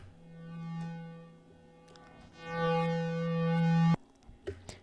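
A sustained synth tone with bright stacked harmonics whose loudness swells and dips unevenly under automation in a music production session, cutting off abruptly near the end before a few short stray blips.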